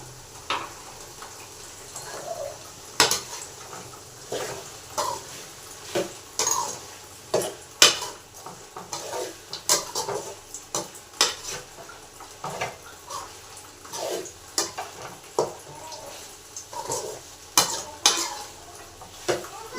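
Ginger masala, chili powder, coriander powder and tomato fry in a pan with a soft sizzle, while a spoon repeatedly scrapes and clatters against the pan in irregular stirring strokes.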